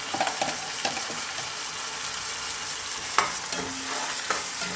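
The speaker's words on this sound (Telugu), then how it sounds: "గుడ్డు పెట్టుకున్న మసాలా అంతా వేసుకొని బాగా వేగనివ్వాలండి" Egg masala fries in oil in a pan, a steady close sizzle broken by a few scraping clacks of a spoon stirring it through.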